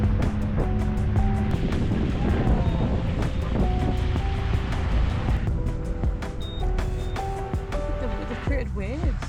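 Steady rushing water from waves churned up in a South African safari setting, a constant noisy wash with wind buffeting the microphone and voices talking over it.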